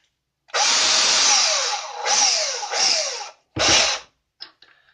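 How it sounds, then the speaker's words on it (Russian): A cordless drill-driver bores a small hole while fixing a wire inside a repaired LED bulb, running in three close, loud whirring bursts that rise and fall, then a short final burst and faint clicks. "Берем шуруповерт, сверло, сверлим отверстие."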